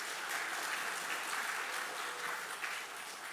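A church congregation applauds in congratulation, a dense, steady wash of many hands clapping at once, sustained evenly throughout at moderate volume with no voices.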